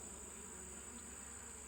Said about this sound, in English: These bees are a little irritable.